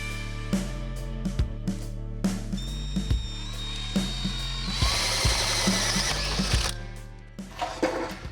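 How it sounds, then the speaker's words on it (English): A power drill bores a hole in an old Chevy truck's transmission tunnel, whirring in repeated bursts with rising whine and grinding as the bit bites metal, close and loud, then spinning down. "So I'm just gonna drill this new one,"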